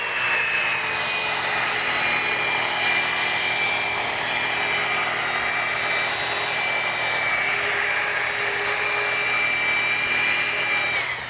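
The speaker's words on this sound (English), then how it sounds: "I'm going to go ahead and place my machine on speed setting 1 and place it all over the top of the tank." A rotary polisher on its lowest speed setting works over the fuel tank of a Suzuki GSX-R motorcycle, producing a steady, continuous whine with a broad hiss. It holds at an even level from start to finish, close to the microphone, and no one speaks.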